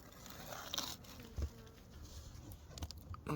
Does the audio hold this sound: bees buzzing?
yes